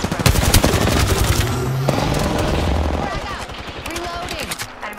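Rapid automatic gunfire in the Apex Legends shooter, loud bursts of close shots in quick succession, with a voice talking over the shooting.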